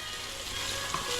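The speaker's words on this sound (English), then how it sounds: "You can hear the sizzle" Onions sizzle and fry in a pan, a steady soft hiss of cooking with faint crackles, heard alone and up close for a short moment.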